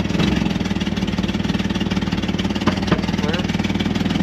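A race car's engine runs loud and close at a 24 Hours of Lemons endurance race, holding a steady, throbbing idle-like drone with a couple of brief sharp knocks, without a clear rise in revs.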